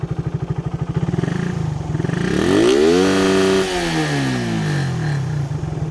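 A Yamaha Raider 150 motorcycle engine idles with a rapid putter, then revs up high, holds near its roughly 12,000 RPM CDI limit, and drops back to idle, loud and close.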